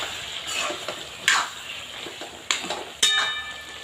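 Cauliflower and eggplant curry is stirred in a pan, with a soft oily sizzle broken by three sharp spoon scrapes and clinks against the pan.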